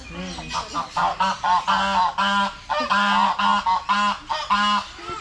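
Geese or ducks honk loudly and close by at a bird park, a rapid run of repeated nasal calls in uneven bursts with little pause between them.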